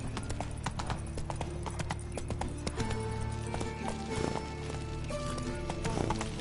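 Hooves of Geralt's horse Roach clip-clop steadily at a gallop across the Witcher 3 game world, a continuous rhythmic beat over a dense background of game ambience and music.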